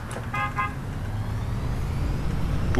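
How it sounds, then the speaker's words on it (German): A car horn honks in two short toots in the OMSI bus simulator game, set against a steady low rumble of the bus engine. "Willst du wohl aufhören, mich anzuhupen"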